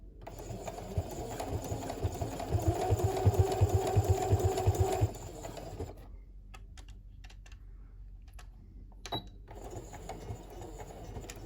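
A sewing machine stitches a fabric face mask with a fast, loud mechanical rattle for about five seconds, then stops. A few short, quieter bursts of back stitching and handling clicks follow.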